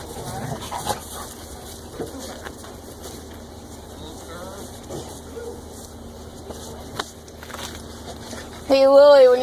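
Several dogs in a daycare play room whine, whimper and give scattered barks around a room with a steady background hum, close by, and a louder burst of high whines at the end. A person speaks briefly.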